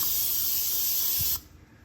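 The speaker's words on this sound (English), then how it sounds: "I'll spray them on there so you can see" Pam and Weber high-heat grilling sprays hiss from aerosol cans onto a grill in one steady close burst lasting just over a second, then cut off abruptly.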